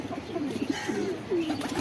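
A pigeon coos softly nearby, a few low rolling calls repeated over a faint background hiss.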